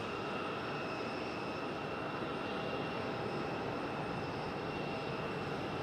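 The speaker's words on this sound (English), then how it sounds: "Got a little Delta connection. E175 on the move." A Delta Connection Embraer E175 jet moving at Raleigh-Durham airport, a steady distant engine roar and broadband rumble holding evenly throughout without variation.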